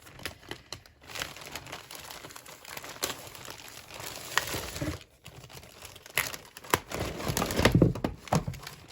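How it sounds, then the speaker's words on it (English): Echo Park Paper craft supplies are pulled out of crinkly plastic sleeves, giving close, irregular bursts of crackling and rustling with short quiet gaps between handfuls. "I'll take it all out of the plastic so that I can show you everything."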